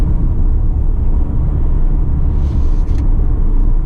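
Steady low engine rumble and road noise from a 2019 Volvo V60 or S60 in motion, continuous and fairly loud, heard from inside the cabin with no talking.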